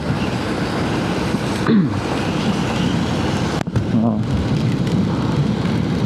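Steady rain hisses throughout in a dense wash of noise, with a couple of brief louder disturbances partway through.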